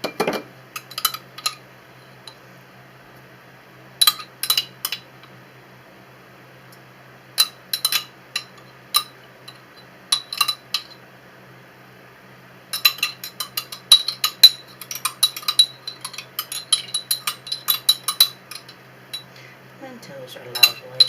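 Celery soup being scooped into small jars, a series of sharp metallic clinks and spoon taps against glass coming in short bursts with pauses, growing busier toward the end, close and fairly quiet.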